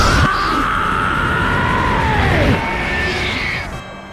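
A man screams at length as his power climbs to tremendous levels, a loud sustained wailing tone that bends downward and then rises again over dense, roaring noise, fading slightly near the end.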